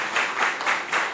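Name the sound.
audience clapping for quiz team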